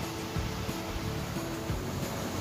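Water rushes through the sluice gates at Barcombe Mills, giving a steady outdoor wash of broadband flowing noise with slight wind buffeting.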